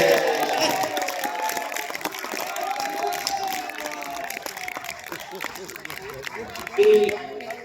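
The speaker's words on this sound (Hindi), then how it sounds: "इतनी कमजोर तालियां में" Sparse, soft applause from an audience at a poetry recital, scattered claps blending with crowd murmur and a voice speaking over it.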